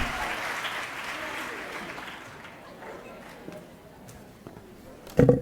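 Applause from an audience at a College of Education pinning ceremony, fairly faint and fading through the clip, ending in a brief louder burst.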